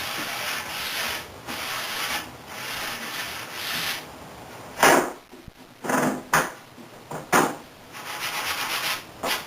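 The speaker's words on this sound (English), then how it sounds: "I took a fine sanding sponge and hit the edges just to get the little burrs and whatnot off" Fine sanding sponge rubbed along the edges of a wooden table to knock off burrs, a steady scratchy sanding that turns into a run of short, distinct strokes in the second half, close and fairly loud with no talk.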